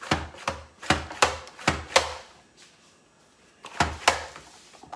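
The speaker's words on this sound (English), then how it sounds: "I am chopping onions." Onions chopped with a knife on a cutting board while pork chops and au gratin potatoes are prepared, a close run of sharp rhythmic thuds, then a pause and a few more strokes.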